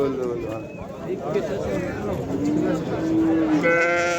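A goat bleats at a busy weekly livestock bazaar in Shahrisabz, its short cries rising over a steady crowd of voices and background market chatter.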